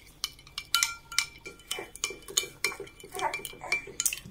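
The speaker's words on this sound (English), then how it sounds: "Just mix everything together." A utensil clinks and scrapes against a bowl while turkey sauce ingredients with mustard and paprika are mixed, giving a rapid, irregular series of close, bright taps and chinks with no talking.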